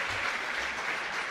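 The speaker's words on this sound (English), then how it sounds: "Oh, these crowds and their chants." Wrestling arena crowd applauding, a continuous wash of clapping and crowd noise, steady and moderately loud throughout, with no distinct voices or chant rhythm standing out.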